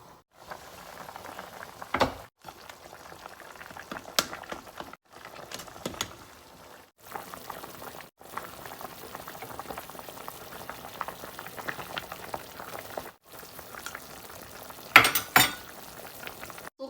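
Salmon head sour soup bubbling in a pot, a steady low boiling and gurgle with occasional clinks and brief pauses, fairly quiet and close, without talk.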